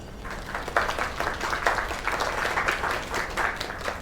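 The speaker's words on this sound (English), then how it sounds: "Another round of applause." Sustained audience applause following a singer's performance at a live show, steady dense clapping throughout with no pauses, moderately loud and continuous.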